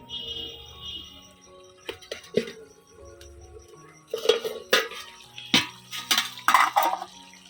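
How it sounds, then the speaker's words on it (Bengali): A dahi chicken simmering in a pot, uncovered and stirred with a metal spoon: scattered scrapes and clinks against the pot, with a louder burst of clattering toward the end. "এবারে ঢাকনা তুলে একটু নাড়াচাড়া করে দেব।"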